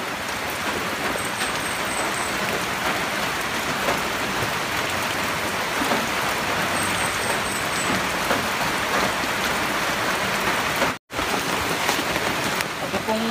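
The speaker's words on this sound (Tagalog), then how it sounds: "Inabot ng ulang tikatik." Light drizzling rain falling outdoors at a vegetable garden, a steady close hiss of fine drops throughout, with faint traffic in the background and a brief cut near the end.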